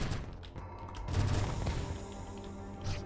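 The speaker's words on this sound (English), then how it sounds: "we'll just use the rail gatling, because these guys were not folding" A rail gatling fires in the video game NeuroVoider, producing dense, rapid bursts of gunfire with crashing impacts and booms spread over a few seconds and layered under game music.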